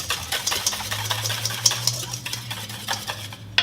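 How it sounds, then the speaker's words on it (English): A lime juice chutney aioli sauce is stirred in a bowl, giving a steady run of quick scraping, clicking strokes with a low hum underneath. "So let me mix everything together."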